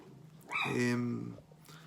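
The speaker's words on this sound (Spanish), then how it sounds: "disculpen el perro que está ladrando atrás" A dog in the background lets out one drawn-out, high yelping bark that rises and fades, close enough to stand out, mixed with faint voice-like sound.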